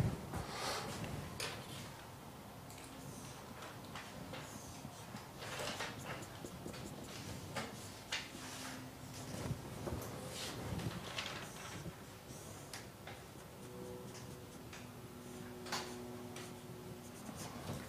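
Chalk or marker sketching on a lecture-hall board, quiet intermittent scratchy strokes and taps spread across the stretch with faint room noise and no talking.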